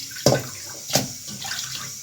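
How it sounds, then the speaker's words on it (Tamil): Chopped chicken liver being rinsed in water with turmeric, two sharp splashy sloshes about a second apart over a low wet background, close and alone with no talk. "சின்ன சின்னதாக கட் பண்ணி நல்லா கழுவி 2-3 தடவை கழுவி எடுத்துக்கணுங்க"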